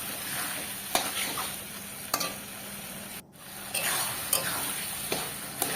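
Jackfruit curry masala with fat sautéing in a pan, a close steady sizzle punctuated by regular scraping stirs of the spatula and one short pause.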